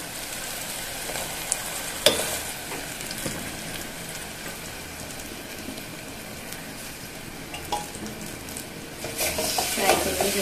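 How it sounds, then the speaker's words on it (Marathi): Coarsely ground urad dal paste fries in hot oil for a village-style amti, a steady sizzle with a spoon stirring and occasional clinks against the pan. "आता हे आपण तेलात ॲड करूया."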